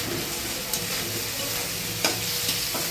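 Cumin powder, chili powder and green chilies fry in hot oil, making a steady close sizzle with a few brief stirring scrapes for a curry of elephant foot yam, taro and prawns.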